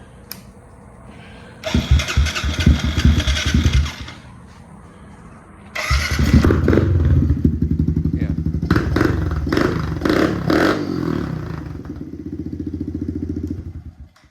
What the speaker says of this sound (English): give it a little fire up here